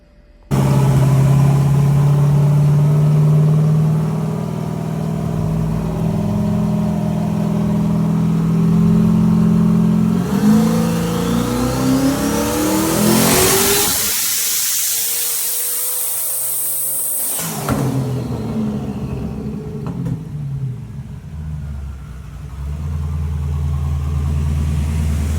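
A single-turbo car with a TH400 transmission revs hard on a dyno pull, loud and close, with the engine note climbing steadily, a sharp high-pitched scream at the peak, then an abrupt drop back to a rumbling idle.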